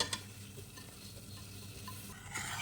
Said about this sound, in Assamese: এতিয়া লাহে লাহে লৰাই থাকিব লাগিব, নহ'লে লাগি ধৰিব।